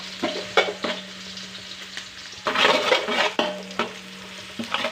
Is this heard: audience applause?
no